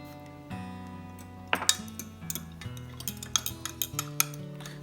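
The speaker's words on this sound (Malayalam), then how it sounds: "ഇനി നമ്മളൊരു 2 ടീസ്പൂൺ ഈസ്റ്റും കൂടി ഒന്ന് ആഡ് ചെയ്തിട്ടൊന്ന് മിക്സ് ചെയ്യാം." Yeast and ingredients are mixed for donut dough in a bowl, with clinking and scraping utensil strokes against the bowl over a steady background tone, rhythmic and close.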